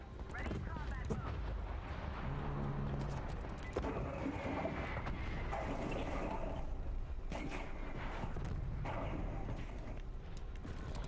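Video game artillery fire, sharp booming blasts and crackling explosions mixed into busy battle noise, heard under a player's ongoing talk.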